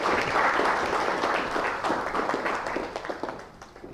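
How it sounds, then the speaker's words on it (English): An audience at a science talk applauds volunteers after a demonstration, a burst of loud clapping that gradually thins and fades over a few seconds. "Let's applaud our volunteers for this first experiment."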